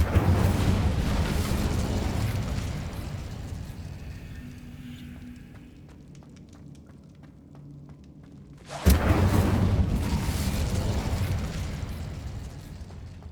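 Incendio fire spell in Hogwarts Legacy, a loud fiery burst and roar that fades into crackling quiet, then a sudden sharp blast and another rushing roar that gradually settles.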